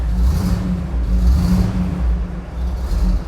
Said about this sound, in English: I'm revving it up myself right now.